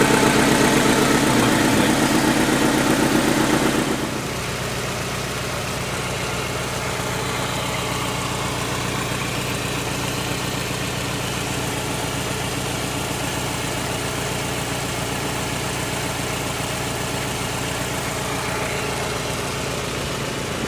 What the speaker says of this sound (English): Started her up.